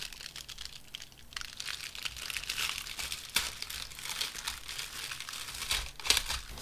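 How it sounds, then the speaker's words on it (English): Heat-sealed plastic wrap being torn open on a comic book, giving a steady close crinkling and crackling with a few sharper rips, no talking. "This looks like a heat seal. I think you just rip it."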